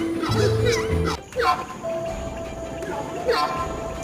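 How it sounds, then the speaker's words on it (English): A horned screamer lets out loud, honking, gobble-like calls close by, several harsh bursts in quick succession over a busy background. "Horned screamer?"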